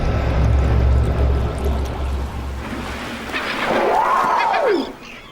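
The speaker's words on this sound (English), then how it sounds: "The bubbles on the water surface were released by this whale to surround and confuse a shoal of fish" Air bubbles released by a humpback whale fizz and burble at the ocean surface in a steady wash, rising toward the end, with an underwater call sweeping up and down late on.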